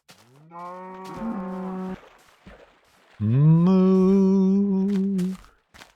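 Two drawn-out cow moos from a Minecraft livestream, loud and near, one after the other with a short gap and no speech over them.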